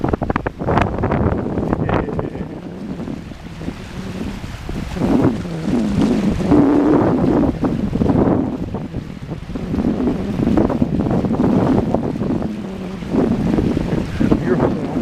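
Wind-driven waves splash against the north breakwater by the Manitowoc lighthouse on Lake Michigan in March, a steady roar of water and gusting wind buffeting the microphone, loud and close throughout.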